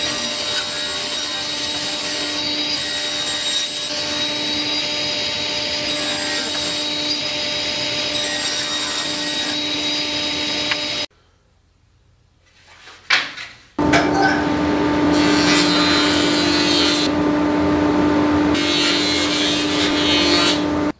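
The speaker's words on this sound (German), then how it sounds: "Ich säge da jetzt einmal dran her" A machine saw cuts through wood for drawer bottoms with a steady, loud whine, stops briefly for a near-silent pause with a few knocks, then resumes cutting.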